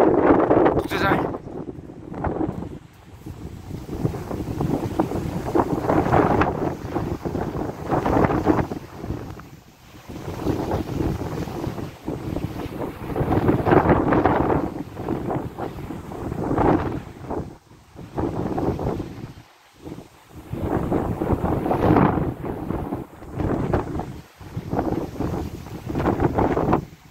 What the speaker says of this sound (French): le vent qui arrive encore